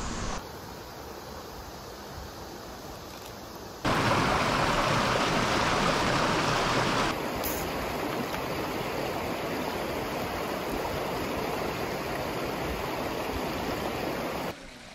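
A river in a small Japanese mountain town flows steadily nearby, a dense, continuous rushing wash of water with no talk, growing louder and brighter for a few seconds midway.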